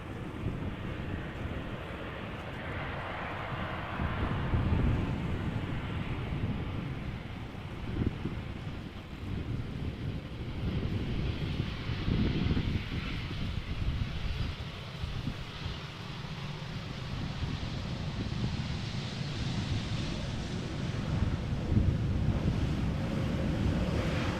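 Wind blows at Amsterdam Schiphol Airport, a continuous low rushing roar buffeting the microphone in uneven gusts for the whole stretch, with no other clear sound standing out.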